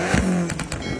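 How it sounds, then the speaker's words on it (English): Side-exit exhaust on a high-mileage Alfa Romeo being turned into a race car, revving hard, a rough, loud engine note rising and falling in quick bursts close by. "Side exit exhaust, baby!"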